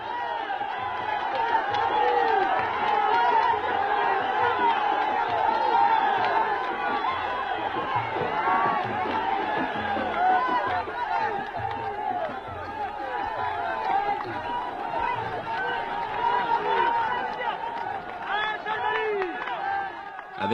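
Festive crowd gathered in the desert at Tarfaya during the Green March, a steady dense murmur of many voices with scattered shouts, continuous and fairly loud throughout.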